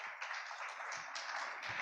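A church congregation claps together, a steady wash of applause filling the space at moderate loudness with no voices.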